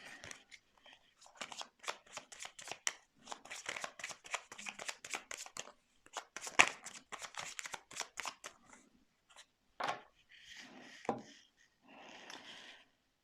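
Tarot cards are shuffled by hand for a reading, a long run of rapid, crisp riffling bursts, close and clear, that breaks into a few separate slaps and shuffles toward the end.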